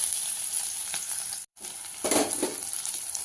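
Onions, mustard seeds, urad dal, dried red chillies and curry leaves fry in hot oil with a steady close sizzle, a brief silent gap midway, then a louder crackling burst as more goes in.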